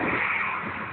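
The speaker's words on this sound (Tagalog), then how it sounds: "Ah, yung motor ni Bok." A motorcycle engine revs in a brief, close, raspy burst that fades slightly within a second.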